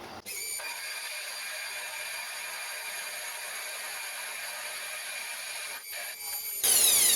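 A lathe cuts metal for a homemade rotary table, a steady close whirring with a faint high tone, briefly dipping before a brighter, louder grinding burst at the end.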